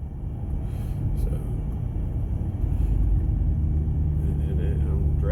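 A Dodge Journey with a sport tune being driven, giving a continuous low cabin rumble of engine and road noise that swells slightly midway, close and steady.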